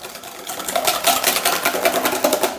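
A steady whirring motor with a rapid rattling pulse, like an electric mixer whisking, close and fairly loud throughout.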